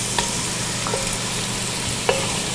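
Garlic frying in a pan while being stirred, a soft continuous sizzle with a few light scraping clicks of the utensil, close and fairly quiet, no talking.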